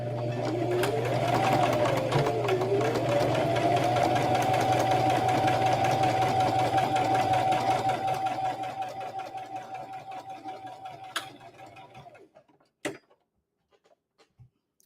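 A sewing machine runs at close range, back stitching with a rapid steady mechanical hum and whir for about twelve seconds. It then slows and stops, followed by a few scattered clicks and handling knocks.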